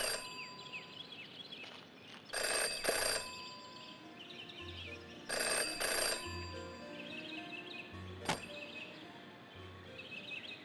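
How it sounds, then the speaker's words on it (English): A telephone rings in the detective video game Jenny LeClue, repeated bursts of bright ringing roughly every three seconds over a quiet musical background, with no one talking. "Jenny had learned never to ignore a ringing phone."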